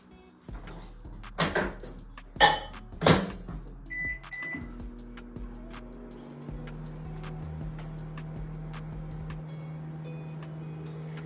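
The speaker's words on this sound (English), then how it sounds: "So I'm gonna pop this in the microwave." A few thumps and clunks of a door closing and buttons being pressed, a short beep, then a microwave begins humming steadily.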